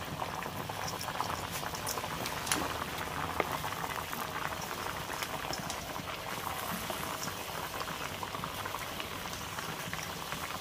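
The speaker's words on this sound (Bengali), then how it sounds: "এই যে বন্ধুরা দেখো কি সুন্দর ফুটছে" A paneer and squash curry with poppy seed bubbles steadily in a pot, giving a continuous, fairly quiet patter of popping bubbles with no talk.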